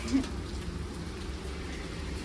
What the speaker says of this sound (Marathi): पाऊस सुरू झालाय.